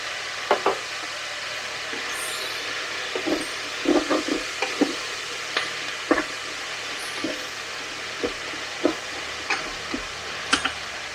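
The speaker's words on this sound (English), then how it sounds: "good handful of mushrooms going to go in as well. There we go. And they will release their moisture and cook down nicely." Mushrooms sizzle softly in a pan on a campsite stove, a low steady hiss broken by scattered light taps and clicks of stirring.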